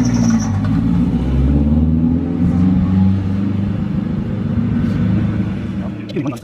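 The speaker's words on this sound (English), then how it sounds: "Man, can you hear that car?" A 1996 Honda Civic sedan's engine revs nearby, a deep rumbling drone with rising and falling pitch that holds steady throughout, ending with a brief clatter.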